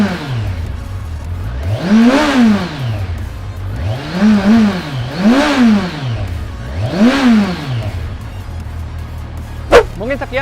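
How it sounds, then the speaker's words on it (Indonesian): A new 2020 Kawasaki Versys 1000 engine revs hard about four times, each rev rising and falling in pitch over a rumbling idle, loud and close, with a sharp click near the end. "Kita langsung dengerin suara mesinnya."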